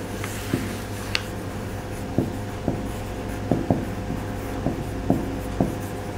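Pen writing figures on paper for an accounting exercise, soft continuous scratching with a series of distinct taps and strokes spaced through the passage, close and fairly quiet against a steady background hum.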